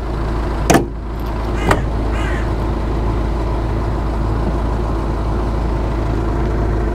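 A cheap, well-used Jeep Cherokee engine settles into a steady low idle close by after two short sharp knocks near the start, the running hum continuing evenly to the end with no talk.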